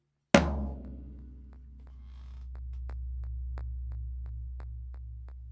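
A single hit on a DW tom drum rings out, then a deep, steady resonant hum sustains and slowly swells, with faint ticking overtones above it.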